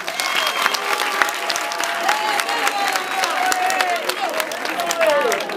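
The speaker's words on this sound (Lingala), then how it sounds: "Bobeta maboko di." Steady, dense applause fills a gathering, sustained at an even level throughout, with voices talking and calling out over the clapping.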